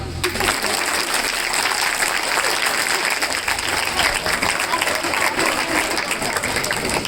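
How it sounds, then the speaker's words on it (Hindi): An audience at an NSS camp claps steadily and loudly, a continuous dense patter of many hands with faint voices mixed in. "अब मेरे लिए बजाओ ताली।"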